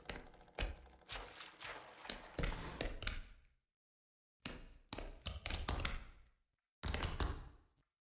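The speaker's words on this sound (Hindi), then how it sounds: "पानी की छपछप क्यों आ रही है यार" Water splashing in The Classrooms horror video game comes in three separate bursts of irregular sloshing and slapping, loud and close, divided by brief silent gaps, with no speech.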